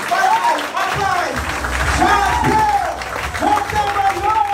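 An audience applauds to welcome a speaker at a training event. The clapping is steady and fills the room, with a voice speaking over it throughout.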